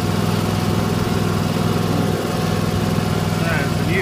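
A lawn mower runs steadily while cutting the grass of a garden, a close, constant engine drone throughout, with faint speech-like sounds over it.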